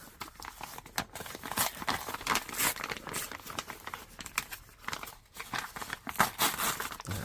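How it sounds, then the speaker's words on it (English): A large paper envelope sealed with strong tape is torn open by hand, giving a quiet, continuous run of crinkling and ripping with uneven bursts, close by and with no talking. "can I tear this open?"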